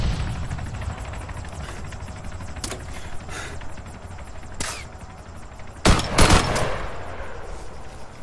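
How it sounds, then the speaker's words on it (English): Rifle gunfire in the video game ArmA 3 over a constant helicopter drone, several sharp isolated cracks spread across the clip, with a tight cluster of louder shots near the end. "somebody's definitely trying to shoot me with a sniper rifle right now"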